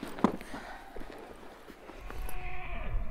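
Horses on a Utah family cattle drive, with a sharp hoof knock at the start, scattered clip-clop steps and a thin drawn-out whinny toward the end over a rising outdoor rumble.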